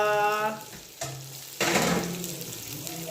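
Onion added to a hot pan sizzles and fries after green chillies and crackling mustard seeds, a close, steady hiss with stirring clatter and a sharp burst as more goes in.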